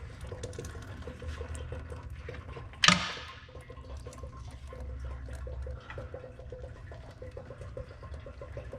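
Fluid gushes from the drain bolt hole of a 1999 Jeep Wrangler TJ once the bottom bolt comes out, a sudden splashing burst that settles into a steady low trickle in a quiet garage.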